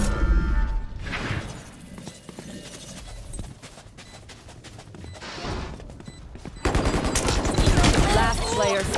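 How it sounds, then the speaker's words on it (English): A swarm grenade goes off in Valorant amid game noise: a loud burst, a quieter stretch of scattered crackle, then a harsh rattling surge of rapid popping toward the end. "Swarm grenade out."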